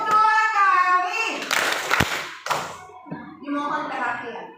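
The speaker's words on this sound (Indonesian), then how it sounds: "Tepuk 2 kali." A classroom of students claps together in a couple of sharp, loud beats among general noise, with a teacher and children talking before and after.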